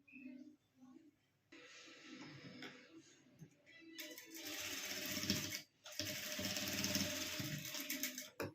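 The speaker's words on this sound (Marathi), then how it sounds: "इथं आणि इथं टीप मारून घ्यायची आहे" A sewing machine stitches fabric while tacking a puff net sleeve design, running in steady mechanical bursts that start and stop, loud and close, with brief pauses between runs.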